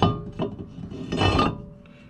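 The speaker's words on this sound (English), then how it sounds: "Now we're going to be installing the rotor." A brake rotor is fitted onto the front hub of a 2004 Nissan Sentra, with a few scraping, rubbing metal contacts and a light clink, close by and without talking.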